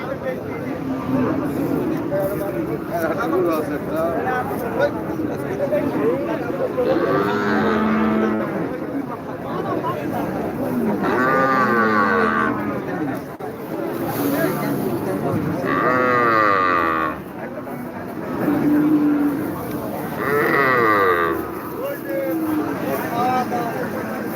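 Cattle moo several times at a busy winter cattle market in Taherpur, Rajshahi, long drawn-out calls rising over a steady crowd murmur while people talk nearby.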